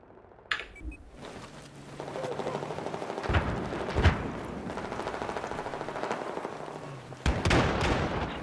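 Bombing explosions and gunfire in a Battlefield 4 match on the Floodzone map: a rumbling battle bed broken by several sharp blasts, with a loud burst near the end.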